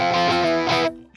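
A guitar runs through a homemade high-voltage neon lamp drive pedal, producing a thick, buzzing distorted tone with two sustained strums that ring out and then cut off abruptly.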